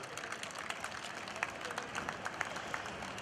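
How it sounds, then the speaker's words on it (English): Audience applause at a global meet welcoming a guest: a faint, distant patter of clapping runs steadily across the short stretch with no clear voices. "Ladies and gentlemen, a round of applause for Mr. Shri Kumar."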